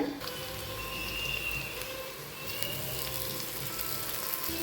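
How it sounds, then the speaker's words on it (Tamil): Chopped mint and coriander sautéing with onions in a pan for chicken biryani, a steady close sizzle of frying that runs unbroken throughout, with faint talk underneath. "வெங்காயத்தோடு சேர்த்து வதக்கிக்கலாம்"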